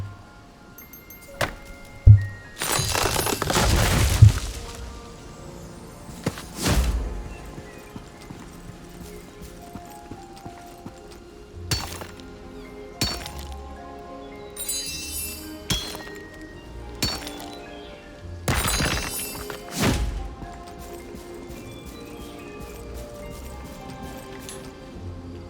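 Mining bomb blasts breaking ore in Lost Ark: a few loud sharp bursts with clinking, crunching debris, separated by quieter stretches of small metallic clinks and taps, close and without voices.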